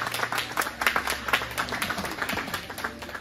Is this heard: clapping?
yes